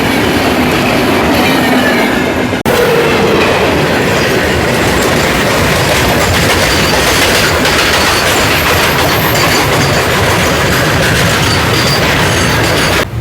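A weekly superfast express from Tirupati to Bhubaneswar rolling on the rails near Khurda Road Junction, with a loud, steady rumble and rhythmic clickety-clack of the wheels, plus a few faint squeals, running continuously throughout.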